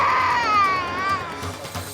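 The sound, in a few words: baby crying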